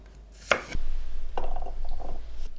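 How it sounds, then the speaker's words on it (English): A knife slicing peeled garlic cloves on a cutting board, one sharp chop followed by a few softer cuts and a low steady hum in the background. "Peel and slice 4 garlic cloves."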